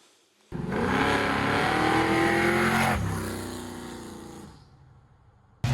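A V8 engine in a rat-rod FJ45 Land Cruiser suddenly roars and revs hard up close, holds a loud growl for a few seconds, then eases off while the vehicle keeps driving.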